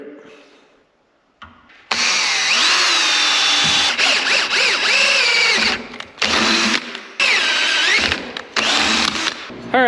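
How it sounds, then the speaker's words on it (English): Power drill boring through a metal bracket while a 1930 Cummins-powered build is fabricated, loud whining bursts of drilling starting and stopping several times with a squeal from the bit biting the metal. "Drill it."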